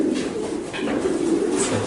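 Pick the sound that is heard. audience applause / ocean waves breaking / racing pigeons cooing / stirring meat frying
racing pigeons cooing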